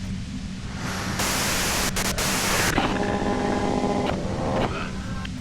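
Harsh broadband white noise from a compressor in the video game Disco Elysium hisses loudly and steadily, swelling and easing in places, with faint tonal hum threaded through it.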